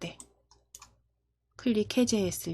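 A computer mouse gives a few soft, quick clicks in close succession during an Entry block-coding lesson, followed by a person talking.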